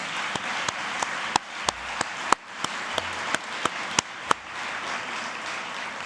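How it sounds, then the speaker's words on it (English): Applause from an audience at a teacher of the year ceremony honoring a veteran teacher, a steady wash of clapping with a few sharper, louder claps standing out near the microphone. "I think that deserves a round of applause"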